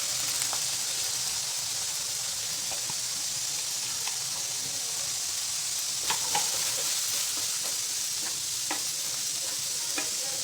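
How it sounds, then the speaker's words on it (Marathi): Ground coconut paste sautéing with tomato in a pan gives off a steady, close sizzle, broken now and then by scraping stir strokes. There is no talking. "हे खोबरं हे व्यवस्थित परतून घ्यायचं आहे"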